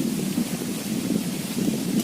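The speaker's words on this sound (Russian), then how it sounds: "Это ветер буйный." Strong, gusty wind blows over a river, a continuous rough roar buffeting the microphone for a couple of seconds, with no voices.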